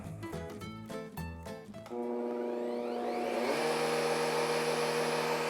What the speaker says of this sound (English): Motor's a soft start. I like that. Wow, this is really, really quiet. For a router motor, this is super quiet.